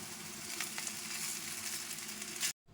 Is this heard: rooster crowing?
no